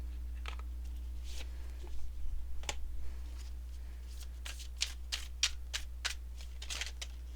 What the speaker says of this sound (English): Last, we're going to pull a Mark Nepo inspiration card.